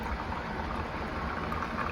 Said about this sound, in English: then you fill it up with your hot water.